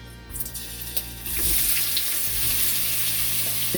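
Oil sizzles loudly in a hot pan for shrimp pineapple fried rice, a bright steady crackle that starts abruptly and holds, with faint clinks just before.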